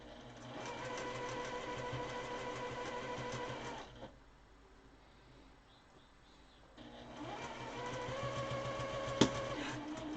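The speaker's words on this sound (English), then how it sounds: "I'm going to top stitch over top of this about 1/4 inch, scant 1/4 inch" A home sewing machine top stitching a scant quarter inch along a fabric face mask, a steady close whir that stops for a few seconds, then resumes.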